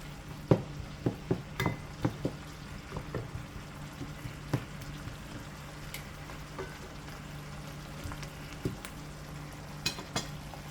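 Fiesta chicken being stirred in a pot after seasoning, a one-pot dish with a low simmering sizzle underneath and a string of sharp spoon scrapes and clinks, busiest in the first few seconds.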